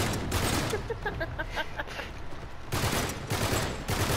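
Rapid video game gunfire rattles in dense overlapping bursts, loud and close, with a brief lull midway before the shooting surges again.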